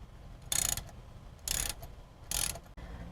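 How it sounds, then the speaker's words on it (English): A ratchet clicks in three short bursts while a T30 Torx screw is backed out of a Mercedes GLS rear brake rotor, each burst a quick run of close metallic ticks separated by pauses. "To remove the rotor, you're going to need to remove this T30 Torx screw, and it should be pretty easy to get off."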